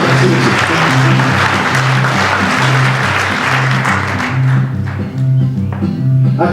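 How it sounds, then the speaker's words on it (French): A crowd gives Julien and his crew a loud, sustained round of applause, with a low, rhythmic pulsing tone running underneath the clapping the whole time. "Je demande encore une fois d'applaudir Julien et son équipage."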